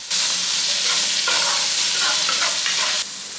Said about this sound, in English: Half of an onion diced, a stalk of sliced celery, 1 diced carrot. Keep that moving so we don't actually burn anything.